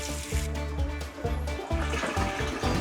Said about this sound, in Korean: 여기 샤워기 일단 있고 어, 물은 또 잘 나옵니다.